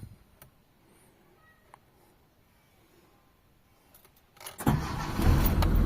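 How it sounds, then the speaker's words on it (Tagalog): A Mitsubishi Lancer with a battery warning light on the gauge panel starts up. A few quiet clicks and faint key jingles come first, then the engine cranks and catches with a single start, settling into a loud, steady idle. "So ayan, start tayo ng engine."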